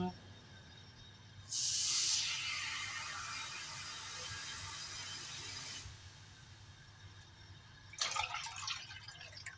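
Water poured into a pot of Thai bamboo shoot and mushroom curry, a loud continuous hissing stream that runs for about four seconds before stopping, followed by softer crackling bubbling.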